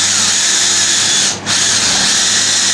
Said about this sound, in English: I'm just going to drill a pilot first.